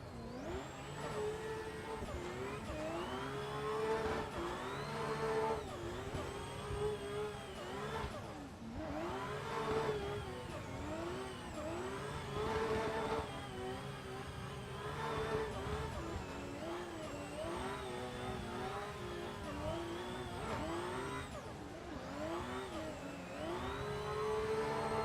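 A Toyota Supra's engine revs and drones continuously in a racing video game, with steady rising and falling pitch sweeps as it accelerates and shifts, loud and sustained throughout.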